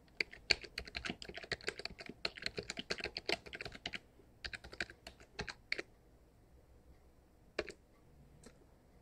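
A computer password typed on a keyboard: fast, close clicking keystrokes in dense runs that thin out into a few isolated taps.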